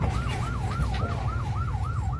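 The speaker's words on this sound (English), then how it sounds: "Sirens raged." A ship's siren wails during a resupply run to the Sabina Shoal, rising and falling in a fast, steady, repeating cycle over a loud low engine rumble.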